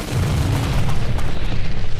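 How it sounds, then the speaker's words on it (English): An explosion in the card game Kards, a deep booming blast with rumbling low end that pulses on for about two seconds, loud and without speech. "I am a little bummed that the explosion happens before my bullets get there"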